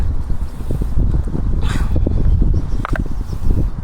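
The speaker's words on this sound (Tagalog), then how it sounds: "Oh, lakas ng hangin." Strong wind by a river in Taiwan buffets the microphone in loud, uneven gusts, with a few faint knocks and rustles close by.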